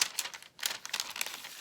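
A paper bag in a handmade gratitude journal crinkles and crackles as it is handled, in soft close bursts of rustling with a brief pause midway.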